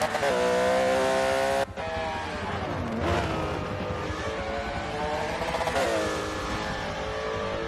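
Simulated race car engine in a sim racing league event, revving hard and climbing through the gears with sharp shift breaks and rising pitch, loud and continuous, with faint commentary underneath.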